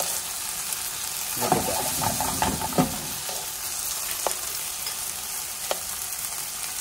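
Chicken kabob pieces fry in a pan with a steady, even sizzle, while a few louder crackles and stirring scrapes stand out. A voice speaks briefly over the cooking.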